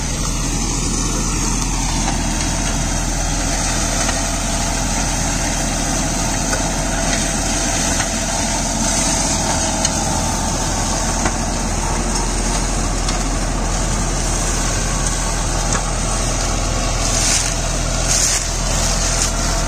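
A John Deere 5310 4WD tractor with about 30,000 running hours drives a Shaktiman shredder through its PTO, giving a continuous loud mechanical drone that stays even for the whole stretch.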